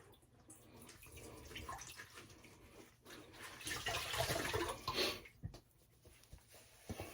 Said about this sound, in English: got a bowl of cold water and do a cold water rinse